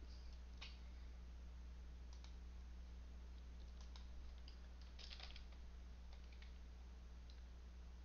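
Faint keystrokes sound on a computer keyboard at a desktop command prompt, a few sparse clicks and a short cluster of taps over a steady low hum.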